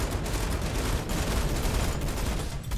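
Gunfire from an enemy in the video game Fortnite comes as a continuous, rapid barrage of shots, dense and steady, moderately loud with a slight pause near the end.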